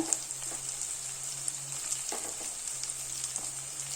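Garlic cloves and green chillies sauté in a pan with onions for a Tamil fish curry, giving a soft, steady sizzle with a few faint stirring clicks, close and fairly quiet.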